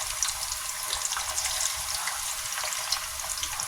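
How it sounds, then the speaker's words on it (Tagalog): Onion, garlic and ginger sautéing in a pan for a chicken curry, a steady, dense hiss of frying that runs without a break the whole time. "Igisa ko na yung ating sibuyas, bawang, luya."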